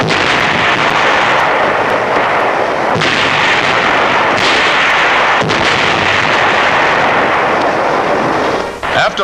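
Naval and air artillery bombardment of Saipan in World War II, a dense, loud roar of continuous gunfire with several sharper heavy blasts standing out, carrying on throughout.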